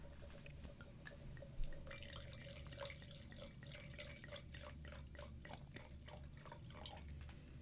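Red berry wine poured into a glass makes a faint, steady, liquid trickle with small splashes, fairly quiet over low room noise, and no one speaks.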